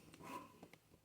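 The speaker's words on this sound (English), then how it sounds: "she's barking again" A dog barks a few short times at a distance, quiet and somewhat muffled, with faint household background.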